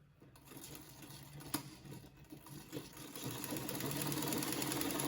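A sewing machine stitches down fabric on a bustier gown, a steady, fairly faint mechanical whir that gradually builds in loudness and runs without speech.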